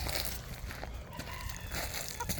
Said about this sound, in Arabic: ديكو 4 دجاج حلوين